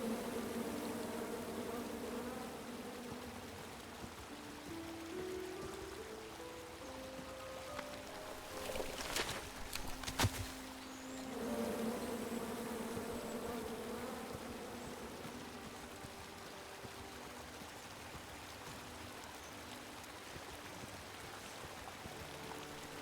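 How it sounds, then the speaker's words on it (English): Bees buzzing in the King's Quest video game, a steady insect drone with a wavering pitch that holds across the whole stretch, rising briefly with a sharper burst near the middle before settling back. "Come at me, bees!"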